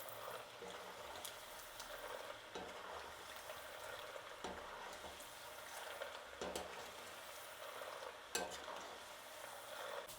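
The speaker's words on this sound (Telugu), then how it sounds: "పల్లీలు అనేది బాగా వేయించుకోవాలి" Peanuts frying in oil for a crunchy bean mixture snack make a continuous soft sizzle, broken every couple of seconds by a sharp scrape or clatter as they are stirred.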